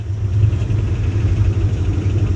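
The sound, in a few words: old Dodge car engine revving after sitting for years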